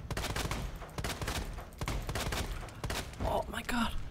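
Rapid gunshots from the video game Resident Evil 2, a dense run of sharp, loud bangs going almost without pause, with brief exclamations from a player breaking in near the end.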